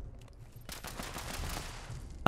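Gunfire in Fallout 76 aimed at ghouls: a few quick, muffled shots blur together into a short fusillade of moderate loudness over a low battlefield rumble.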